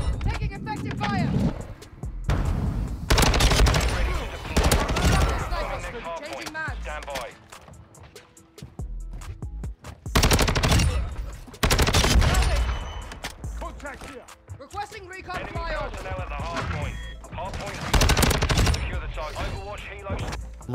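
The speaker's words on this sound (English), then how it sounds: "Taking effective fire." Rapid automatic rifle fire from an STB 556 in the video game Call of Duty Modern Warfare 2, loud repeated bursts separated by pauses, with game sound effects in between.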